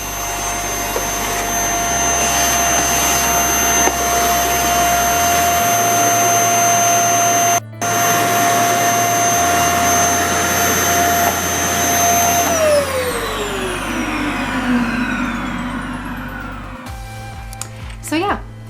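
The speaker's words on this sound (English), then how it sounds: "So my vacuum works again." A Bissell AeroSwift Compact vacuum cleaner, repaired after losing suction, runs with a loud, steady motor whine that briefly cuts out once, then winds down near the end as the motor slows and stops.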